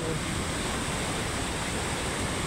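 Tinuy-an Falls in Surigao del Sur, a large waterfall roaring as a steady, dense wash of falling water, loud and unbroken with no voices.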